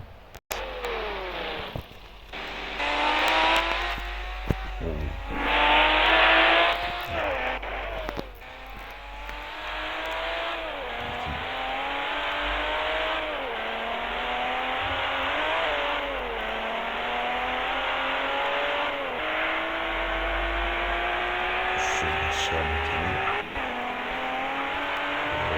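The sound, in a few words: car accelerating during a speed test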